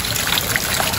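Water runs steadily from an opened garden tap, a close and continuous splashing trickle with no talking over it.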